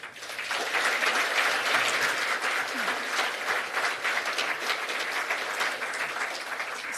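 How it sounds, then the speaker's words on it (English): A crowd applauds at the Guernsey Pride Awards ceremony, with dense, sustained clapping that rises quickly and holds steady for several seconds, loud and close without talk over it. "I applaud you all."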